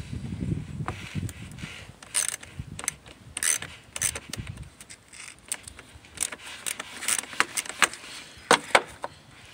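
A ratchet fitted with a 10 mm socket loosens the battery terminal nut on a 2000 Toyota Tundra, irregular clicking bursts close by with some low rustling handling noise early on, no speech.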